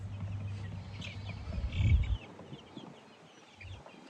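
Chickens cluck softly nearby in a chicken tractor over a low rumbling background hum, with scattered short clucks and no talking.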